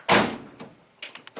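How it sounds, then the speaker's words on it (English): A 1951 Ford truck door shuts with one solid thud, followed by a few lighter clicks and knocks. "I'm going to close this door."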